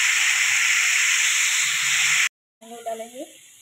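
Potatoes frying in hot oil for aloo bhujia, a steady bright sizzling hiss that cuts off abruptly, then returns fainter beneath a person speaking.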